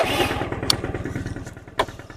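Stunt motorcycle engine running close by with a rough, pulsing idle rhythm, broken by a couple of sharp clanks or thumps.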